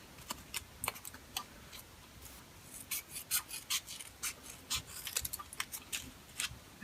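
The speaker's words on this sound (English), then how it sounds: "I'm just going to cut out some shapes and see if they fit, and if they don't, I'm just going to trim it." Scissors cutting out paper shapes for bookmarks, a series of quiet, crisp snips and rustles at an irregular rhythm, close and faint, with no talking.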